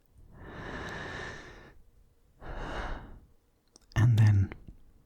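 Two slow, deep breaths drawn and let out close to the microphone in a quiet room, the second shorter than the first, followed by a brief louder breathy puff.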